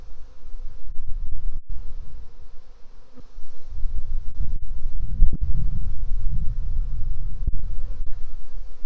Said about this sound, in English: That frame has got some bees on the one side mostly